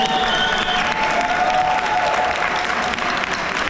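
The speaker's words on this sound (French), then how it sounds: "qu'on s'applaudisse chacun" An audience at a firefighters' Christmas thank-you event in Fréjus applauds steadily, dense clapping filling the room at constant loudness throughout.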